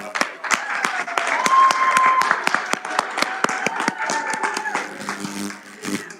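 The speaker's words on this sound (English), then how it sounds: "And we give ourselves a round of applause." A room full of guests applauds themselves at the launch of a child-friendly version of the African Charter, with clear separate claps tapering off near the end and voices mixed in.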